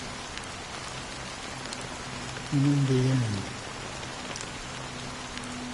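Steady rain hisses across a scene in Honkai: Star Rail's Penacony, an even wash of falling drops that carries on unbroken under a short spoken line.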